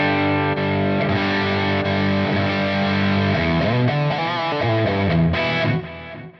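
Distorted electric guitar runs through a Quad Cortex preset, switching between scene tones: loud, saturated chords and riffs that shift voicing and character, ending with a short decay, no voices.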